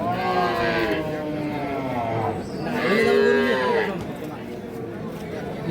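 At the Ambari livestock haat in Dinajpur, a dairy cow lets out two drawn-out, close moos in succession, while a crowd of people chatters continuously in the background.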